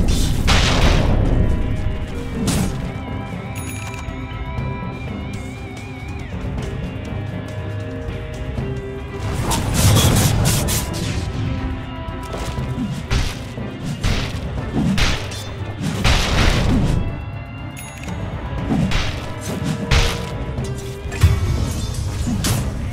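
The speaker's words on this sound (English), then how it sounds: "Dire's middle tower is under attack." In Dota 2, Dire's middle tower comes under attack amid a dense barrage of booms, thuds and crashing impacts, with bursts of loud hits repeating over a steady game soundscape.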